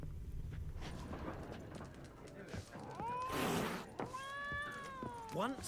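A cat meows in The Witcher 3 game, with several drawn-out, rising and falling cries close by, mixed with game noise, a burst of rustling, and hoof-like clopping in the background.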